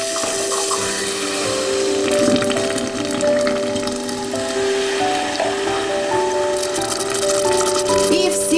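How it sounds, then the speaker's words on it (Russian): Water pours steadily into a pot of melted, caramelizing sugar while making a cough syrup, a continuous splashing, bubbling rush heard close up with steady tonal hiss and no talk. "Когда сахар полностью растворился, добавляю 300 миллилитров воды."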